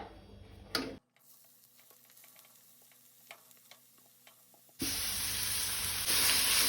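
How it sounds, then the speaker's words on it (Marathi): Two chopped onions frying in hot oil on a medium gas flame, a soft steady sizzle with light stirring clicks, swelling into a loud, bright hiss near the end. "कांदो आमकां तळसून घेवपाक जाय"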